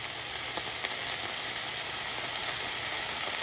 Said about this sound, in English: Let these tomatoes cook down for a couple minutes.